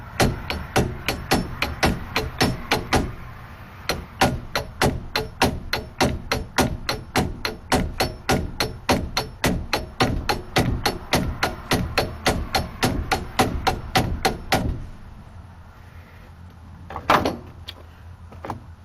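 Light, even hammer taps strike a Dana 30 axleshaft U-joint clamped in a vise, dozens of quick ringing metallic hits in a steady rhythm up close, then a pause and one last knock.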